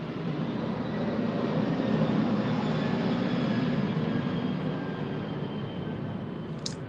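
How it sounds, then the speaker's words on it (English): An airplane passes over a house as a steady, broad, droning roar that holds at an even level throughout, fairly loud and with no talking. "Your plane was going over the house"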